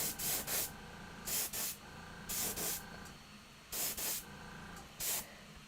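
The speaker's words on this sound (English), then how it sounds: "The spray of the airbrush." Airbrush spraying paint onto Malifaux Neverborn miniatures, heard as repeated short hissing bursts, often in pairs, close and fairly loud over a low background hum.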